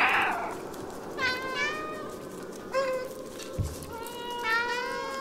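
Several clear meows, one after another, come from the cat in the video game Stray, each a short rising and falling cry over quiet game ambience. A soft thump sits between two of them.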